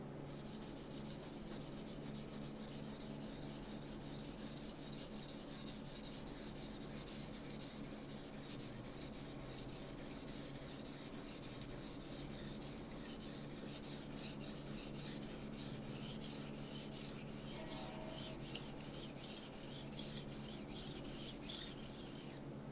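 An old Wüsthof kitchen knife is drawn across a 1000-grit whetstone in steady, continuous rasping strokes, close and fairly loud, with no talking.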